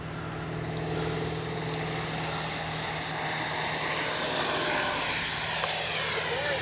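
A Freewing 90mm Eurofighter Typhoon radio-controlled jet flies overhead, its electric ducted fan giving a loud sustained whine that rises slightly as it passes, with no talking.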